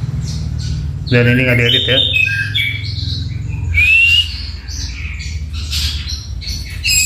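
Caged birds in full song: a canary, a bush lark and an orange-headed thrush, with a young long-tailed shrike nearby. Close, bright chirps, trills and squawky calls come in overlapping bursts, partly under a voice talking.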